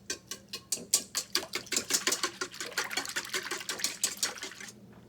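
A small whisk beats salt into an egg in a bowl, producing a fast, steady run of close, rhythmic clicking taps that fade out at the end.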